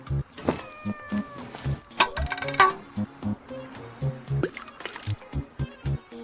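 A video game cat meows repeatedly near a fishing spot, while bait drips and splashes into water in a run of short, clicky bursts, with faint game sounds underneath.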